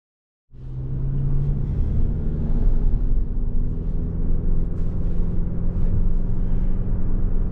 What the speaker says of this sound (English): we are driving this 2023 Toyota Venza XLE, and we're driving the Nightshade